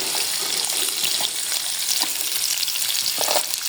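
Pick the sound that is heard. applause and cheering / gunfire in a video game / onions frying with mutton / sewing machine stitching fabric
onions frying with mutton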